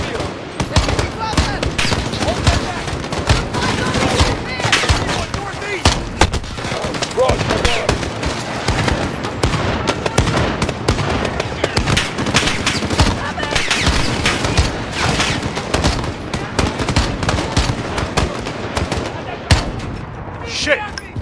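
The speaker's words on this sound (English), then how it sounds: "See where they're shooting from!" Call of Duty Modern Warfare firefight during the embassy mission: sustained machine-gun bursts and overlapping rifle fire crackle loudly and almost without pause, with shouted voices mixed into the chaos.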